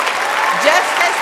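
Audience applause at a law school spring commencement ceremony, a dense steady clapping from a large crowd in a hall, loud and continuous.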